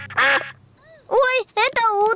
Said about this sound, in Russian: Ой, это утки.